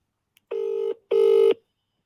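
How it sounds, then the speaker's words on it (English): Two long electronic ringback tones sound on an outgoing phone call, steady and clear with a short gap between them, alone in otherwise quiet surroundings. "I'm going to call KG"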